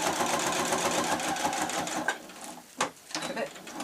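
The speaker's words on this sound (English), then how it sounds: "Trying to make sure that the fabric isn't puckering as I'm sewing that" A sewing machine stitches fabric for a shabby chic tablet case. The needle runs in a steady, rapid rhythm for about two seconds, then stops, leaving a few separate clicks and knocks close by.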